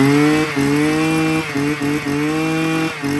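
An M8 petrol brush cutter engine runs loud and close, a steady buzzing drone that dips briefly several times as the throttle eases and picks back up.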